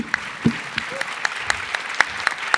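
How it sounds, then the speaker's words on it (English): An audience at a film screening event offers light, scattered applause, with separate claps at a steady rhythm and a brief voice near the start. "I want you to give them a round of applause"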